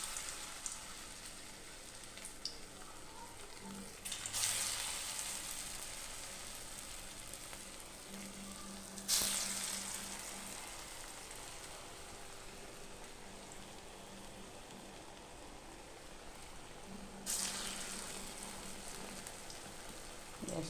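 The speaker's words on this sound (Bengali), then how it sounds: "গ্যাসটা একটুখানি সিম করে দিয়ে ভেজে নেব।" Pointed gourd and sago fritters fry in oil over low gas: a steady, quiet sizzle with soft crackling runs throughout, broken by three brief louder bursts of hiss.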